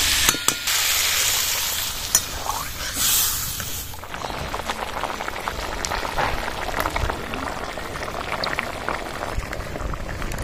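Ghugni of fresh green peas cooking in a pan just after water is added, a steady bubbling simmer and sizzle with a few sharper clinks and pouring sounds early on, close and fairly loud.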